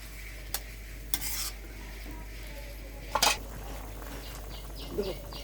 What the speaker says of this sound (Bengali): আবার একটু নাড়াচাড়া করে দেবো যাতে হলুদটা ভালোভাবে মিশে যায়